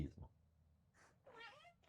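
A domestic cat meows once in a drawn-out, wavering call near the end, preceded by a short soft chirp, with a person's voice briefly heard at the start.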